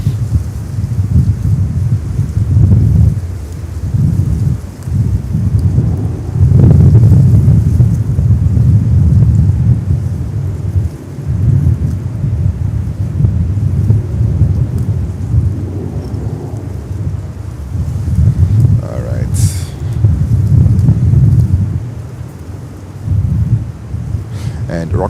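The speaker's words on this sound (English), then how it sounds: "Yeah, it's a storm. It's real." Thunderstorm at JFK airport, heavy rain roaring steadily with deep rumbling thunder rolling in and out, loud and close, with brief bits of voice mixed in.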